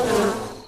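Wasps buzz loudly in a short, close, droning burst that fades away within a second, with no voices.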